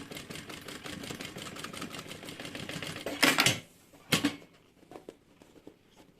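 Sewing machine stitching a seam on a necessaire, a steady dense mechanical whir for about three seconds, then abrupt stops with a couple of short loud clacks and quieter pauses.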